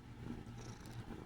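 Soft, close purring from a cat, a low steady rumble that stays quiet and continuous for about a second with no voices over it.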